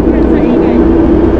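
A motorcycle engine runs with a steady, close droning hum throughout the short moment, with a voice talking over it.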